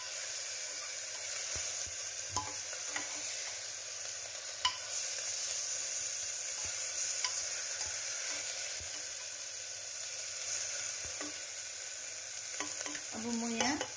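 Ginger and garlic frying and being stirred in a pan while a Nepali-style local chicken curry is cooked; a steady sizzle runs throughout, broken by scrapes and knocks of the spoon, with a louder stir near the end.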